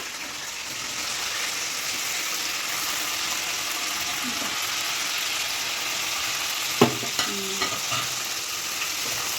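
Food sizzles steadily in a pan as part of Indian home cooking of dishes like chicken fry or paneer, a continuous crackling hiss with a few sharp stirring clanks and scrapes near the end.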